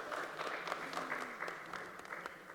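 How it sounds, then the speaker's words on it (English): An audience at the AFEX 2024 event claps for journalists, a soft, steady wash of applause heard from some distance, fairly faint throughout. "Please, a huge round of applause for them and also for yourself."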